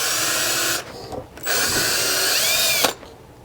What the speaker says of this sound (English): Now we need to drill 2 more holes to hold this bracket on like this.